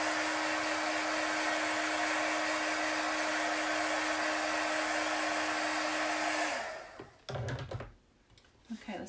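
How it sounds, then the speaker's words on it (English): Handheld heat tool blowing steadily close up while drying a chalk transfer paste design on a snail-shaped decor piece, a loud constant whoosh with a steady hum that cuts off near the end, followed by a few handling knocks. "I'm just drying it."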